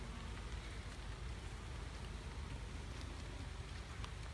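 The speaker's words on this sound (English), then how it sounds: "It's starting to rain." Light rain starting to fall outdoors at a Cape Cod beehive site, a faint, even patter of drops with a soft hiss throughout and no talking.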